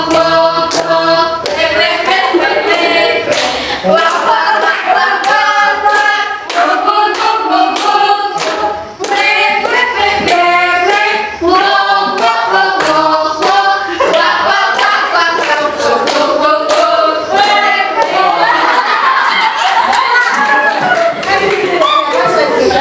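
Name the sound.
class applauding, clapping hands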